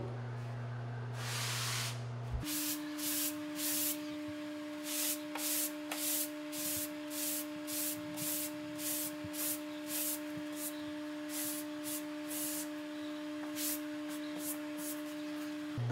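A tapered sanding block rubs lightly over dried drywall joint compound in an inside corner, giving repeated short rasping strokes in a steady back-and-forth rhythm over a constant electrical hum.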